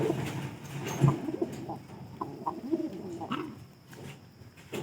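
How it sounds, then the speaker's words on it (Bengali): Pigeons cooing in a cage at a bird market, several soft low coos repeating irregularly at close range amid faint background murmur. "এটা যে পায়রা এটা শব্দ করছে দেখতে পাস।"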